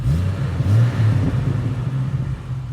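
A Jeep XJ fitted with a Borla exhaust idles with a deep, low rumble, close and steady with slight unevenness, no voices.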